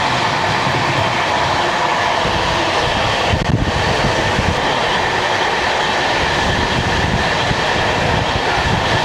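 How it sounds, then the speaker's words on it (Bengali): A Vande Bharat express passes close by, heard from a moving train. The rumble and rattle of rail traffic stays steady and loud throughout, with a brief whoosh near the middle. "বন্দে ভারত ট্রেনকে ক্রস করছি দেখুন।"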